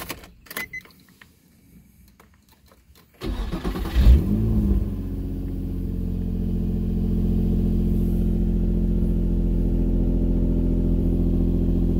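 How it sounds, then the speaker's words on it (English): A Nissan 350Z gets underway: a few near clicks and rustles, then the engine fires up with a loud surge and settles into a steady, deep droning rumble that continues throughout, with no talking. "let me hop in the car, we're gonna go for a short ride in the car"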